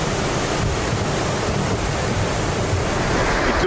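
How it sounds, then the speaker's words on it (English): Big ocean waves crash continuously against an island shore, a loud, dense roar of surf with steady wind noise and no clear breaks between breakers, no voices. "Big wave crashing, it's very big wave."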